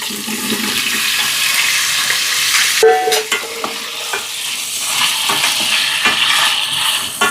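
Potatoes fry in ghee with a loud, close hiss and crackle while a utensil stirs and scrapes them around the pan, with clattering knocks and shifting sizzle throughout and no voices.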